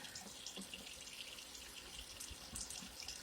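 Steady tap water runs continuously with a soft hissing splash, moderately close and fairly quiet, with no voices.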